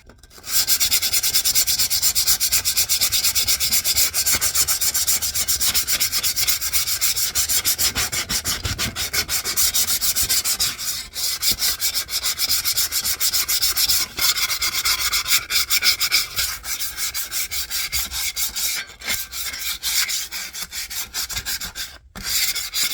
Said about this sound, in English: it looks like the WD-40 did help loosen up some of the rust, but I still have to sand it.